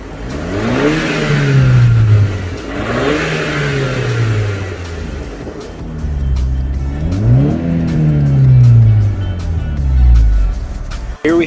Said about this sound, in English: Because I actually removed the muffler on my APR exhaust, it does make a little bit of a burbling sound.